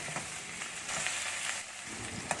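Ginger garlic paste and chopped tomato sizzle steadily in a hot pan, a continuous close hiss with a few faint clicks of stirring and no voices.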